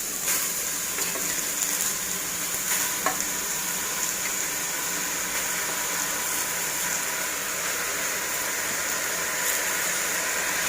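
Finely chopped spinach hitting hot tempering oil with asafoetida in a pan, a continuous loud sizzle and hiss with occasional stirring scrapes, no voices.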